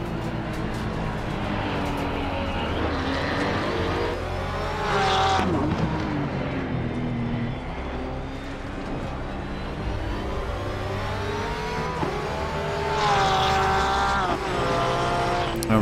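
A race car lapping the wet Nürburgring in Assetto Corsa Competizione, engine droning steadily with rising and falling revs, two sharp upshift sweeps and brief tire squeal as the rear slides, no talking.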